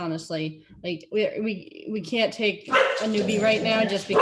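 A pet dog, one of three kept at home, barks sharply several times in quick bursts close by, mixed in with someone talking over it.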